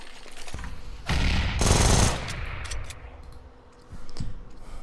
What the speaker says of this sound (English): So right here, you just wall banging the smoke.